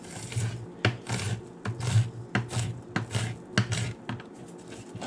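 A knife slices through onion on a cutting board in quick repeated strokes, each a short crisp chop against the board in an uneven rhythm, close and clear with no talking.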